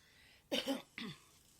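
A voiced cough from a person with a cold, then a second shorter one a moment later, close and fairly loud against a quiet room.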